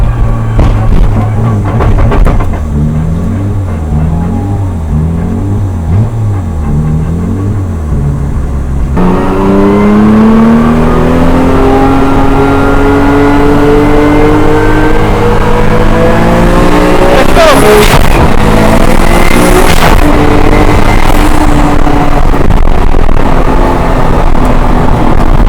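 Nissan R34 GTR engine revving hard while driving, loud and close, with a choppy on-off throttle pattern early on and then long rising pulls. A voice talks briefly over the engine noise.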